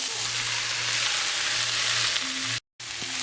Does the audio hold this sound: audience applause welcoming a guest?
no